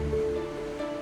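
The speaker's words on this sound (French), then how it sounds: "Dehors, la mer commence à s'agiter. Des vagues de plus en plus grosses malmènent le paquebot." Rough sea waves building around the Queen Mary 2 cruise liner, a steady broadband wash of surf with a low rumble, continuous and fairly loud for about a second.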